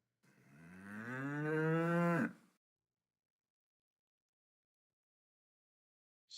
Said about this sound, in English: you can do like cow sound